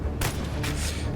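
A single heavy gunshot from the game Xenonauts 2, a loud booming blast that fades over about a second with a dense backdrop of game sound.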